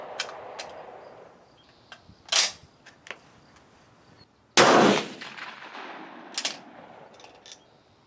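A rifle fires a single loud shot with GP-11 ammunition outdoors, a sharp blast with a brief tail, set among quieter clicks and small knocks.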